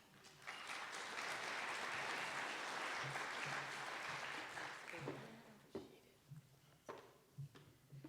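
An audience at a NEPA training session claps to welcome a speaker, with sustained applause for about five seconds that then thins into scattered claps and footsteps.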